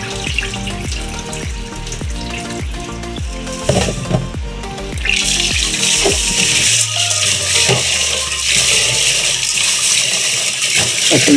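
Water poured over mung beans in a pot for cooking, clattering beans giving way to a loud, steady rushing pour close by.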